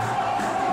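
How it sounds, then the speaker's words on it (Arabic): Football fans in a Palestinian stadium erupt in a dense, sustained roar as a goal goes in during an Al Ahly versus Espérance match shown on the stadium screen, a brief, unbroken wall of crowd noise. "بصوا لحظة الجماهير كلها وهي بتعبر عن هذه الفرحة"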